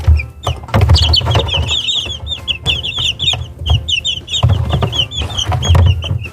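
Three-week-old Silkie chicks peep and cluck close by, a busy chorus of high chirps over low scratchy clucking and shuffling that rises and falls in bursts without pause.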